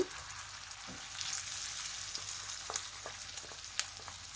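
Green chillies and chopped tomato sizzle in a pan of hilsa roe bhuna. A loud, close crackling hiss runs throughout, with scattered sharp spatula taps and stirring scrapes.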